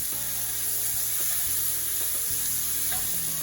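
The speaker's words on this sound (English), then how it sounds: "Let them saute down." Food sautéing in a pan of butter with a little olive oil gives a steady, close, loud sizzle that runs unbroken for the whole stretch, with faint low tones beneath it.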